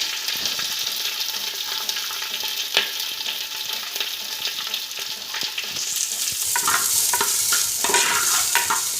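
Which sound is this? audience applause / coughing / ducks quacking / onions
onions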